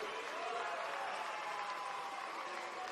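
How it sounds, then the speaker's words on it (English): Football crowd at an NPL Men's NSW match between Wollongong Wolves and St George City cheering and applauding after a goal, a steady distant roar with no single voice standing out. "And the crowd go wild."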